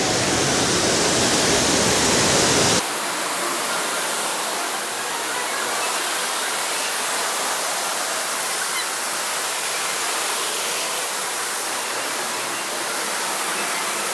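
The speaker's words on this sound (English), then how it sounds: "we can go behind the waterfall" A loud waterfall roars from close by, heard from behind the falling water, with a broadband rushing wash that stays constant and overwhelming after an initial burst.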